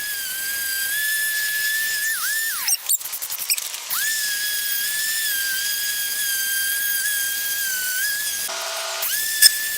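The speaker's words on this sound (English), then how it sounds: "took my sander and cleaned out the outside of the bricks where some of the mortar was still rubbed on" An electric sander fitted with 60-grit paper works over a brick surface to clean off leftover mortar, giving a steady, loud high-pitched whine with brief breaks around the third second and near the end.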